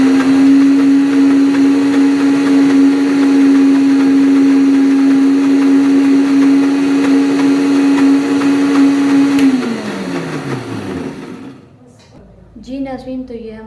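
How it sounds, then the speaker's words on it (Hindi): An electric grinder whirs steadily, loud and close, while grinding spice masala for siri paya, then winds down and stops near the end with a faint clatter afterward. "तो अब मैं इसे करने लगी हूँ ग्राइंड।"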